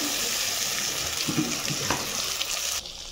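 Mustard and poppy seed paste with dry chilli added to fried onion in a hot pan, producing a continuous close hiss and sputter that cuts off abruptly near the end.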